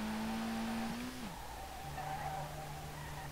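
A car drifting in the video game SLRR gives a loud, continuous tire squeal whose pitch holds, dips sharply, then settles lower, over a steady engine drone, with no talking.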